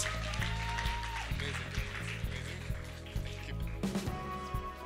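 Applause from a concert crowd at a Hindi film music event, thin and partly masked by loud tonal music and hum, continuing at a steady level.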